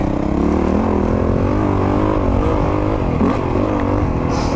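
A 2022 Honda CRF450RX dirt bike engine drones steadily and loudly while it is ridden, the pitch wavering slightly with throttle changes, with no talking.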